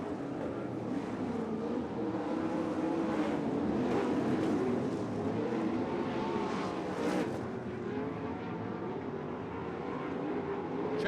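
Dirt track race cars roar through the final lap of a Dirt Devil Grand Nationals race, a sustained engine drone at moderate distance that swells and fades slightly as cars pass.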